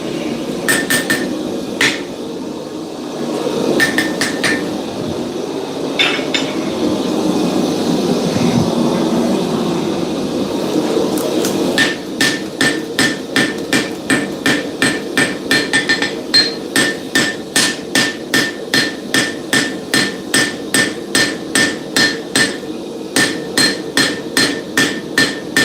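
Repeated hammer blows forging a chef's knife blade at a smithing forge, a loose run of strikes giving way to a steady, rapid rhythm of sharp, ringing metallic hits, close and loud.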